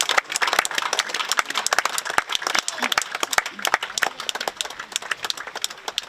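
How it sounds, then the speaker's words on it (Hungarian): Audience applause for race competitors at a running event, a dense burst of brisk, uneven handclaps from a modest crowd, sustained and fairly close throughout. "Mészáros Lászlónak is nagy tapsot szeretnénk kérni"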